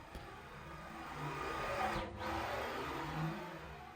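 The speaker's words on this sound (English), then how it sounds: "I'm cutting the top PVC flush here" CNC router fitted with a 1/4 inch bit trimming the top edge of PVC flush, giving a steady high whining drone with a slight rise in pitch and load midway, continuous and moderately close, with no voices.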